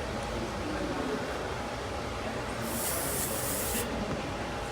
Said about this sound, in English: Just gonna polish up the hair, just with our glint spray.